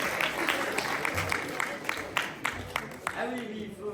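Theatre audience applause rises beneath a speaking voice, a patter of clapping hands spread across the room at moderate level and overlapping the talk throughout.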